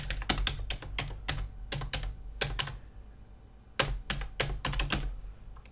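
Quick bursts of typing on a computer keyboard, clusters of close, crisp key clicks separated by short pauses, with no voices.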